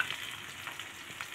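Onions sizzle in hot oil in a wok on a gas stove, a steady close crackle with faint stirring scrapes and no voices.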